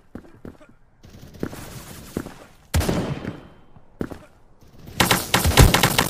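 Gunfire from a weapon in the online shooter game Krunker comes in rapid clattering bursts separated by short pauses, loud and close, ending in a denser volley.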